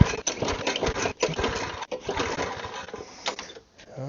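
A small primer-bulb engine is cranked repeatedly without catching, a rapid mechanical churning broken by short pauses between pulls, close and moderately loud.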